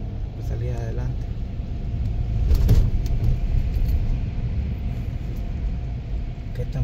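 A car creeps slowly along a snowy road during a snowstorm in the United States, its low, steady rumble filling the cabin with a brief swell midway, while people talk over it.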